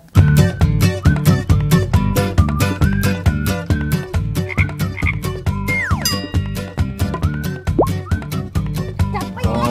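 Frogs at a frog farm in Chiang Mai, being moved into stacked housing units, croak in a loud, dense chorus of rapid, pulsing calls that never lets up.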